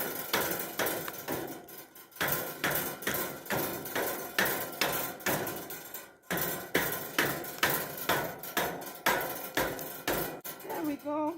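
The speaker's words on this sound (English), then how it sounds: "Now I can hammer it down." Regular, loud hammer blows drive down part of a homemade garden bed in a country garden. Steady strikes repeat close to the microphone throughout, with one brief pause partway.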